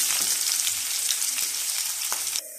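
Chopped onions and curry leaves sizzle steadily in hot oil while being sautéed golden for a fish curry, a dense continuous frying hiss with a few faint stirring clinks, stopping abruptly near the end.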